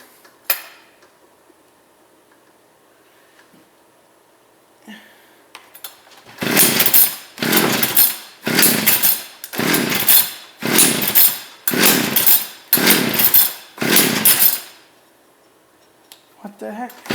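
Ice auger engine with the choke on, sputtering in about eight rhythmic, loud, rough bursts, each under a second, before falling quiet.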